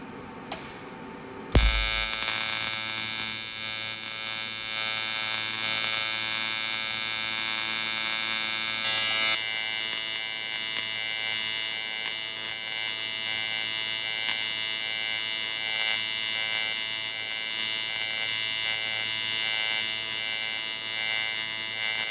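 Budget Amazon-bought TIG welder running at a low workstation, giving a steady, loud electrical buzz with a strong mains-hum drone that starts abruptly after a brief quiet moment and holds unbroken to the end.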